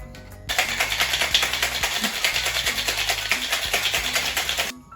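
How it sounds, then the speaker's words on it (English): Ice rattling inside a cocktail shaker, shaken hard with rye whiskey for a ginger beer cocktail, a fast steady clatter lasting about four seconds, close and loud, with no talk. "And I'm gonna shake it up."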